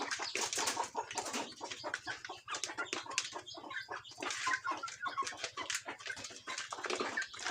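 Chickens on a village homestead clucking in short, repeated bursts at close range, with a low steady hum beneath and no talk.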